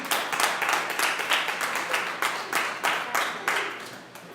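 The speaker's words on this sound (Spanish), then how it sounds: "Denle un aplauso a nuestro Señor." A church congregation claps together in steady rhythmic applause that keeps a strong pulse and fades slightly toward the end.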